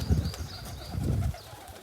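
Pigeons near a rooftop setup, with soft cooing and a brief burst of wing flaps as birds take off, fairly quiet and close, no talking.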